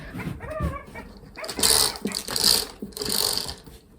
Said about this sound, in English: If you guys can hear that, that's one of my kids' toys.